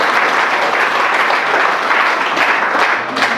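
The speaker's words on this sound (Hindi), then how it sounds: "मैं चाहूंगा एक बार आप अपने सम्मान से अभिनंदन देंगे," Sustained, dense clapping from a seated audience at a motivational speech event, loud and steady throughout, with no voices over it.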